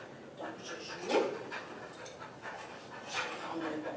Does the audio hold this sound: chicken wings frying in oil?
no